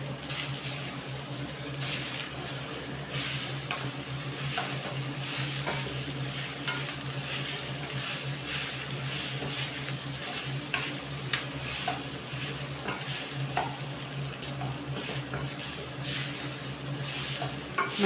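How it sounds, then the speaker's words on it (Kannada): Cold cooked rice frying and being stirred in a pan, continuous sizzling with repeated scraping and tossing strokes in an irregular rhythm, close and steady throughout, without speech. "ಹಾಗಾಗಿ ನಾನಿಲ್ಲಿ ಅದನ್ನು ಫ್ರೈ ಮಾಡ್ತಾಯಿದ್ದೀನಿ. ತಣ್ಣಗಿದೆಯಲ್ವ ಅನ್ನ, ಅದಕ್ಕೋಸ್ಕರ ನಾನಿಲ್ಲಿ ಫ್ರೈ ಮಾಡ್ತಾಯಿದ್ದೀನಿ."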